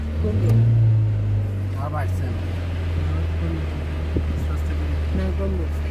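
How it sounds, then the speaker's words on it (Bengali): A car engine rises briefly in a low rev as the accelerator is pressed, then settles to a steady idle drone under people talking nearby. "এই তুই অ্যাক্সেলারেটর একটা বাড়ি দে"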